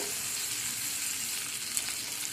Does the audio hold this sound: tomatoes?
yes